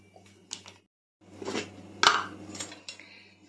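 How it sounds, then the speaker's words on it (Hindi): Big spoonfuls of milk powder going into a bowl for homemade mango kulfi, heard as a few light scraping and clinking spoon-against-bowl knocks with a short quiet gap, fairly close and soft. "ये मैं बड़ी चम्मच यूज कर रही हूं, तो 3 चम्मच बड़ी मैं इसके अंदर मिल्क पाउडर डाल रही हूं।"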